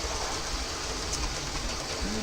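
A train rumbles past close by, a dense continuous roar with faint rail clatter filling the whole stretch at steady loudness.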